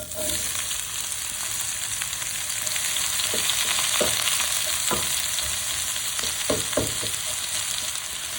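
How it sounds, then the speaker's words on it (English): Chopped onions fry in a pan of darkened spices over high heat for a chicken curry, giving a loud, steady, close sizzle broken by a few sharp stirring knocks and scrapes. "I'm going to fry these down a little bit and let them cook away in there on a high heat"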